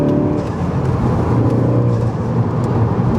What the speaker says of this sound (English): Little blow off valve there